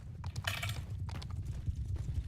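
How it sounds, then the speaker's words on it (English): Horse hooves clip-clop in a fantasy battle video game, a steady rapid rhythm of muffled low thuds at moderate distance, running continuously without speech. "Those awfully sound like horses."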